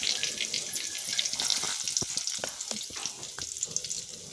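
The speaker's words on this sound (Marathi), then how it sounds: "मसाला तेल गरम करा 2 चमचे, म्हणजे जिरे, कढीपत्ता," Cumin seeds and curry leaves frying in hot oil for a Maharashtrian stuffed brinjal masala, a close, steady sizzle with scattered pops and crackles.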